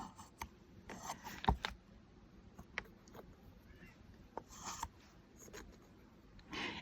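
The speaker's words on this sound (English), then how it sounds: "now I'm going to remove the cream. Once again, using my spatula to get up as much as I can" A spatula scrapes etching cream off a ceramic box in a studio, giving quiet, intermittent scratchy strokes with a few sharper clicks, close and faint, with no talking.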